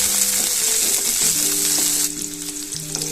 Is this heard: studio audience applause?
no